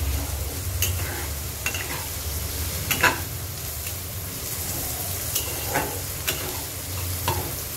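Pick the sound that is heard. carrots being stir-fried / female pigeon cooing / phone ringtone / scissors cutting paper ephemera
carrots being stir-fried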